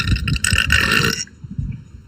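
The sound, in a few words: burp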